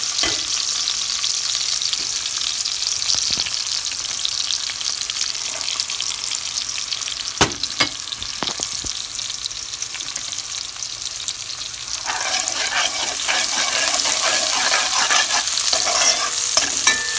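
Onions fry fast in hot oil for dhal, rice and bhaji, with garlic and pepper stirred in. A steady close sizzle runs throughout under scraping stirs, growing brighter and busier in the last few seconds, with no talking.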